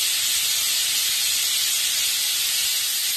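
A pressure cooker cooking moong dal pulao lets out its whistle as a loud, steady rush of hissing steam that runs unbroken and close for several seconds.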